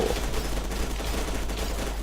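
Sustained automatic gunfire from the F.E.A.R. 2 video game, a steady dense rattle of rapid shots filling the whole stretch with no break.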